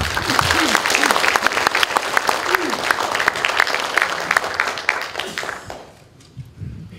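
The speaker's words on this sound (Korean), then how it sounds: "이분들한테 박수를 보내주십니다" An audience at a Korean current-affairs lecture applauds Vietnam War veterans, with dense, sustained clapping and a voice heard over it. The applause fades out near the end.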